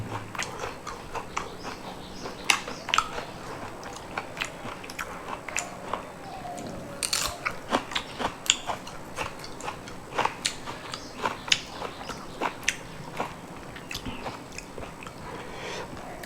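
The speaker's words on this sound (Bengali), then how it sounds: "একটু সস দিয়ে লাগে খায় দেখি কিরম লাগে" Crispy fritters made from small shrimp scraps, eaten with sauce and raw onion, give close, repeated crunchy bites followed by moist chewing in an irregular rhythm, fairly quiet, with no talking.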